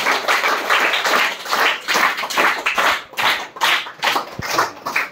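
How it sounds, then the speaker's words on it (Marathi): A classroom of students applauds a classmate, many hands clapping together in a brisk, uneven burst that rises and dips for about five seconds, loud and close, with no talking. "आपण टाळ्या वाजवायच्या"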